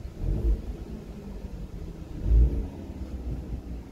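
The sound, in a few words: Ford Mustang V8 engine idling in neutral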